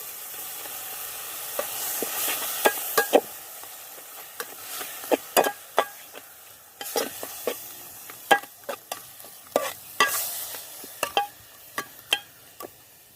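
Green chili and ginger paste frying and being stirred for green pepper chicken, a continuous sizzle broken by many sharp, irregular spoon clacks against the pan, close and fairly loud with no talking.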